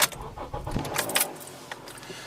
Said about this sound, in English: We'll get the car turned on quick so we can get some power